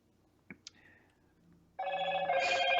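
A telephone bell starts ringing after a couple of faint clicks, a loud continuous electronic ring that fills the second half alone with no talk over it.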